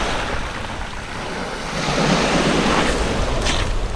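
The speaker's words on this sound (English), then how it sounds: "The waves are moving a lot more than yesterday." Winter sea waves wash onto a UK shore beach, a steady rushing surf that swells louder midway as a larger wave breaks, with wind buffeting the microphone.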